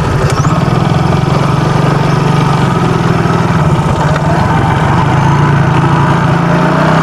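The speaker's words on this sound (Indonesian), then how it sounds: "Bisa. Pakai motor." A motorcycle engine runs steadily and loudly at close range for the whole stretch, a constant low idling drone with a rough mechanical buzz and no pauses, on a rural path near trees and eggplant plants.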